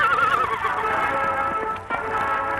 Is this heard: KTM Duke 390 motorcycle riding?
no